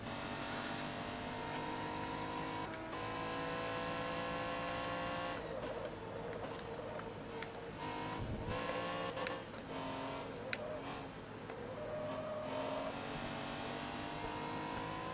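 A steady engine drone with shifting pitch runs throughout, like a tuned BMW accelerating and cruising in the racing video game Forza Motorsport 2, fairly loud and continuous with no talking.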